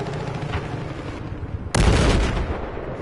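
Gunfire in the Battlefield 4 multiplayer video game: a dense, continuous background of shooting, then a sudden, much louder burst of close gunshots that keeps rolling on to the end.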